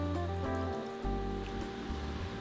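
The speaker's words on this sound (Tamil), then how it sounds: "இனி நம்ம இதை பெரிய ஜாரில் மாற்றி வடிகட்டி எடுத்துடலாம்." Blended lemon juice pours and trickles through a strainer into a large jar, a close, steady watery rush with a slight shift partway through and no voices.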